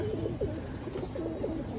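Pigeons at a home loft coo in soft, low, repeated burbling calls over a murmur of background noise, close and fairly quiet.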